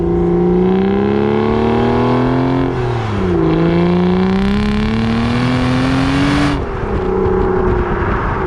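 An Aston Martin DB9 engine accelerating on the road, a loud, close, sustained drone whose pitch climbs steadily through the gears with a brief dip at each shift.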